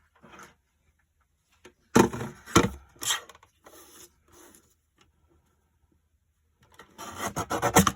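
A paper trimmer blade slides across cardstock in several short rasping strokes, close and dry, separated by pauses and ending in a longer scraping pass.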